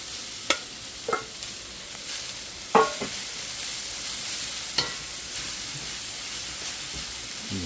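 Collard greens stir-fried in a pan with garlic and ginger, a steady low sizzle broken by a few sharp stirring scrapes and clatters, the loudest near the middle, no voices.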